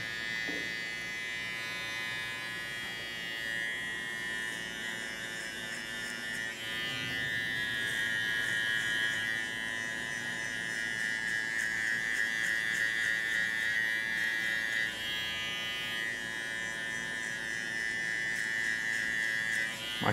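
Electric hair clipper running continuously through a boy's traditional children's haircut, a steady close buzzing whine that shifts slightly in pitch and loudness as the blades move over the head.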